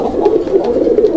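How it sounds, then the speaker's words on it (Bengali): Pigeons in a pair kept for sale, a colored Rajgolla breed of local Bengali pigeon, coo in a steady low throbbing murmur, close and continuous, with no talk over it. "এখানে আরও এক জোড়া কবুতরের কালেকশন রয়েছে"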